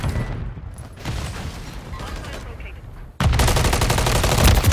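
Gunfire from a Call of Duty MW3 ranked match, sustained bursts of automatic fire that jump louder and denser in the last second and a half, with background game noise throughout.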